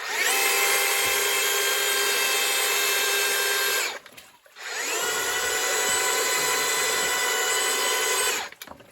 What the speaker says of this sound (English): it's very hard for the drill to run with all that 20 pounds of paper on the end